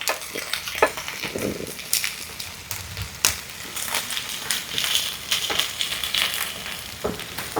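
Tilapia fish frying in a pan crackles and spits steadily, with repeated scraping and knocking as the pieces are flipped, fairly close and loud with no talk over it.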